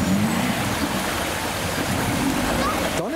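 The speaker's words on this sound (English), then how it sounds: "A little Toyota Aygo. You can see how deep it is compared to last time. Oh, keep the revs high." A small Toyota Aygo pushes through a deep ford, its engine held at high revs under a rushing, churning slosh of water, with people talking over it.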